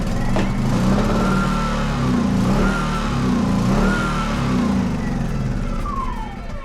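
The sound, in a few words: generator with bad carburetor starting up and running roughly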